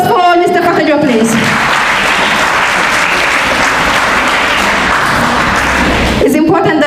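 Audience applause for a speaker at the African Nations Quiz at the Gambia college in Brikama, a dense burst of clapping lasting about five seconds, bracketed by a voice on a microphone before and after.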